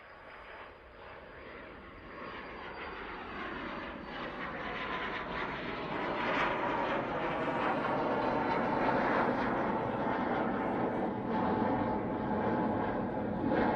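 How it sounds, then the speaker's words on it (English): A Pilatus PC-24 business jet takes off from Manchester Airport on a run bound for Edinburgh, its engine roar building steadily from moderate to loud and holding a broad, sustained rumble with no voices over it. "PC-24 going off to Edinburgh, now on the roll"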